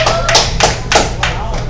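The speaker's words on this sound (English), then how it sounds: "You can always count on O'Brien to clap somebody up." A few sharp, close hand claps ring out one after another for high school football seniors, spaced unevenly over a low steady hum, with voices nearby.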